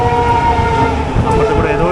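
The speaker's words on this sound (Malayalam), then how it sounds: "അപ്പുറത്ത് കൂടെ ഏതോ ഒരു ട്രെയിൻ പോയി" Heard from inside a Vistadome coach on the Yesvantpur–Mangaluru run, another train passes alongside, giving a loud rolling rumble with sustained tonal hum.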